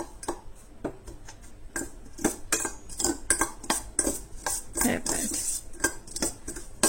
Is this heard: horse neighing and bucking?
no